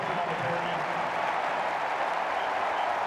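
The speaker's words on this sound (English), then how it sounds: "This crowd getting warmed up again." A stadium crowd at a college football game between Washington and Indiana applauds in a broad, continuous wash of clapping and crowd noise, heard from a distance under a commentator's voice.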